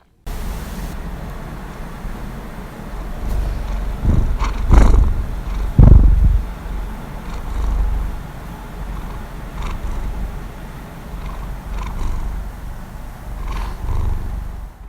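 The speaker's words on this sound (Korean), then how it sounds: "이 중 가장 대표적인 퍼링은 고양이가 입을 다문 상태에서 후두 근육을 수축해서 내는 소리로" A cat purrs close by, a low, rumbling, rhythmic vibration that rises and falls across several breaths, with a few louder bursts along the way.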